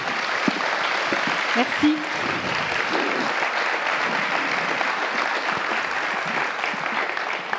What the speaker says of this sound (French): Vous pouvez les applaudir à tous les 4.